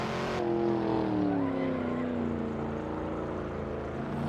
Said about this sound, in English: Lots of tire squeal.